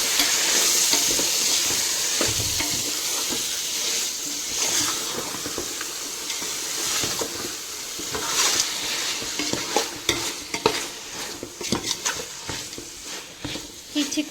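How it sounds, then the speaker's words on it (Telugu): Chicken pieces fry in a pan for biryani, giving a bright continuous sizzle with stirring scrapes and knocks that grow busier toward the end. "ఈ చికెన్ అంతా వేసి ఒక 10 మినిట్స్ అలా ఫ్రై చేసుకోండి"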